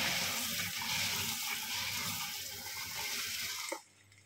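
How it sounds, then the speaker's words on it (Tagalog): Running tap water pours steadily over beansprouts being washed in a sink, a continuous close splashing rush that stops abruptly near the end. "Tapos, gagawin natin ay hugasan natin siyang mabuti."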